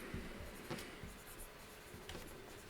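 Pen or chalk scratches faintly and intermittently while someone writes out a geometry exercise on parallelograms in a French math lesson, with short strokes and pauses and no talking.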